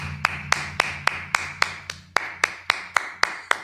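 A congregation at a Sabbath service clapping together in a slow, steady unison beat, about thirteen sharp claps evenly spaced, loud and close with no talking.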